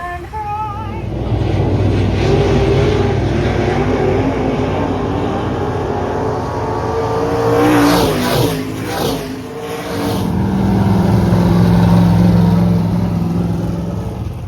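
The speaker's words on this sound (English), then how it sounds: "Stock cars are starting to roll out." Stock car engines rumble and rev steadily at mid distance at a speedway, swelling louder around the middle as the cars roll past, with a continuous motor drone throughout.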